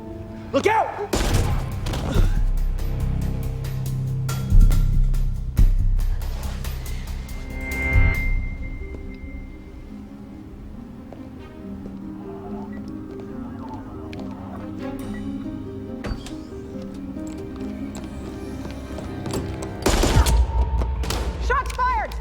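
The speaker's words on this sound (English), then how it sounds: "Shots fired! Fan out!" Gunfire in a TV mystery show, sharp loud bursts near the start and again near the end over tense dramatic music, with a quieter stretch in between.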